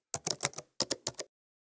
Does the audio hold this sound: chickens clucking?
no